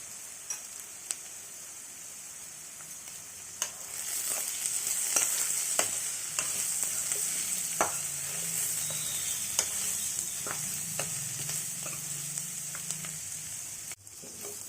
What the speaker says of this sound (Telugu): ఉల్లిపాయ ముక్కలు ఇలా బ్రౌన్ కలర్ వచ్చే వరకు బాగా ఫ్రై చేసుకోవాలి.